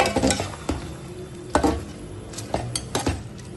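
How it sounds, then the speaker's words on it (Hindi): Beef pieces browning in a pot with whisked yogurt for yakhni pulao, a spoon scraping and clinking against the metal in irregular bursts over a steady low sizzle. "अब गोश्त की हमने बहुत अच्छे से भुनाई करनी है"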